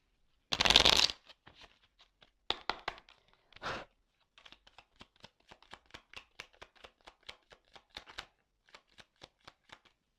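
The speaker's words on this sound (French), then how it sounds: "Allez, je prends encore quelques cartes." Tarot cards are shuffled and drawn by hand, opening with a loud riffle, then a few more shuffling bursts and a long run of light, scattered card flicks and taps, close and quiet.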